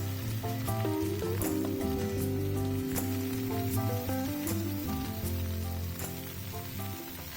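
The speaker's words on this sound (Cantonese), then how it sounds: "當我哋聞到薑同埋蒜蓉嘅香味嘅時候呢，我哋就可以將黃芽白放埋落鑊度噶啦。" Napa cabbage stir-fries in a hot wok with ginger slices and minced garlic, giving a steady, crackling sizzle throughout with faint clatter, set under background music.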